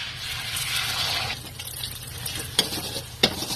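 An egg fries in a hot pan for bakmi goreng, a loud close sizzle that settles into a softer crackle, with two sharp knocks of a utensil near the end.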